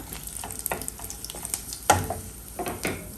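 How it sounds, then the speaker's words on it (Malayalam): Dried red chillies are added to oil with popping mustard seeds in a pan, giving a close sizzle broken by stirring scrapes and a sharp metallic clink near the middle. "കടുക് പൊട്ടിക്കഴിയുമ്പോഴത്തേക്ക് ഞാൻ രണ്ട് വറ്റൽ മുളക് നുറുക്കി വെച്ചിട്ടുണ്ട് അതിട്ട് കൊടുക്കുവാണ്"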